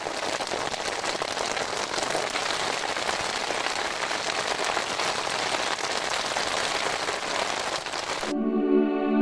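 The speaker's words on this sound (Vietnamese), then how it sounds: "Một lần nữa, cơn mưa mùa hạ chút xuống đồng cỏ." Summer rain falls on Central Asian grassland in a dense, steady patter of countless drops, loud and continuous before cutting off abruptly near the end.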